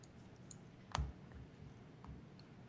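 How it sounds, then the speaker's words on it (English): A few computer keyboard key presses, sharp isolated clicks with one louder tap near the start, heard alone in a quiet room. "the awkward intro where I'm hitting keyboard buttons or key presses and stuff"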